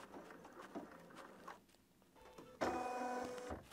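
A Bernina 790 Pro sewing machine stitches out a quilt file, its mechanical whir and patter rising to a steady, louder run near the end after softer intermittent stitching.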